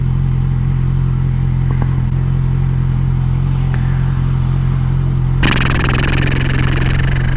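A hot motorcycle engine runs steadily at close range with a constant low harmonic drone, and a burst of rushing wind noise joins it for the last two seconds.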